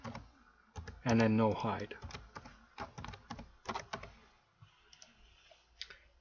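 Computer keyboard typing while setting up an AutoHotkey GUI, scattered clicky keystrokes heard under a man's ongoing speech.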